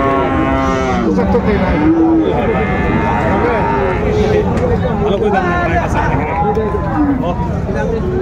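Friesian and crossbreed bull calves moo loudly and repeatedly, deep drawn-out calls overlapping amid a busy crowd murmuring and talking at an outdoor cattle market.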